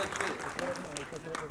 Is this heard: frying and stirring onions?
no